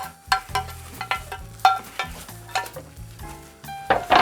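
Fried onion tipped into a pan of hot food for a Georgian dish, with a crackling sizzle and repeated scraping, clattering stirring strokes coming close and fairly loud throughout.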